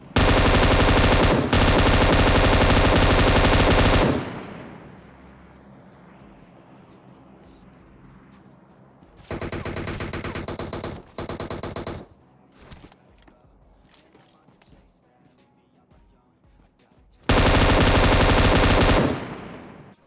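Long, loud bursts of automatic fire from an M249 machine gun in a video game, three sustained volleys separated by quieter stretches of faint in-game ambience and scattered small clicks.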